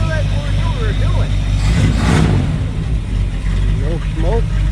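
The 283 cubic inch engine of a 1958 Pontiac Parisienne runs at a steady idle, rising briefly in a short rev midway, while people talk over it.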